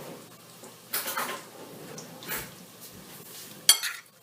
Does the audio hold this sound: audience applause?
no